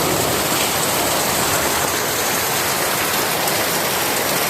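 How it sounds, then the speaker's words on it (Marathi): Heavy, sudden downpour in the Konkan countryside, a dense steady roar of rain hammering surfaces close by, continuous and loud with no voices. "किती पाऊस लागतोय बघा जोरदार अचानक आला"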